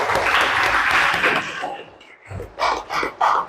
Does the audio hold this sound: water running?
no